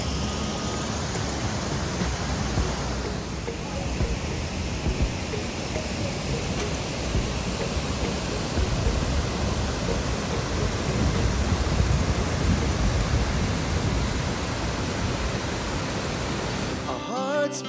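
Tinuy-an Falls waterfall, a constant dense roar of falling water, loud and unbroken throughout with no voices.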